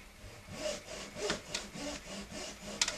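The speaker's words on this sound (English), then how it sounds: "now we'll take the fine-tooth hacksaw" A fine-tooth hacksaw cuts down a marked line on a telescope focuser part, giving a series of close, rhythmic rasping strokes with a few sharper scrapes, quiet and without talk.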